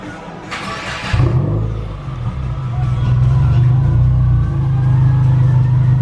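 A 2019 Subaru WRX with a BLOX muffler delete cranks briefly, then fires and settles into a loud, deep, close exhaust rumble with a slight rise in revs, while a voice speaks over the start.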